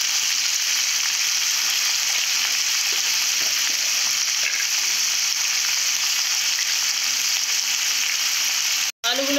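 Potatoes frying in hot oil for a home-style mixed vegetable dish, giving a steady, dense sizzle that holds evenly throughout with a brief break near the end.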